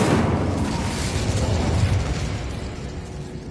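Incendio fire spell in Hogwarts Legacy, a loud burst of fiery blast that opens strongly and rolls on as a dense, rumbling roar slowly easing off.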